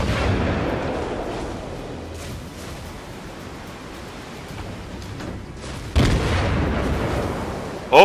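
Naval guns firing in the World of Warships video game: deep booming blasts and rumbling broad noise, with one heavy shot about two-thirds through and another sharp boom at the very end.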